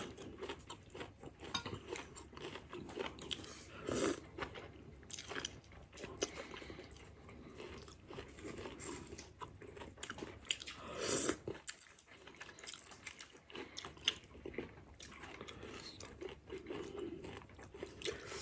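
Someone eats a spicy Thai chicken rib noodle soup close up, with soft chewing, slurping and crunchy bites running continuously throughout, quiet and intimate, with occasional faint voice and background noise.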